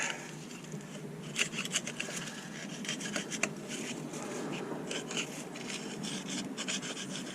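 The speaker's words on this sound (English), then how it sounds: "I'm gonna grab my gasket scraper." Gasket scraper rubbing across a Ram 1500 transmission gasket surface, a close, steady rasping scrape with repeated short strokes and a few sharper scratches.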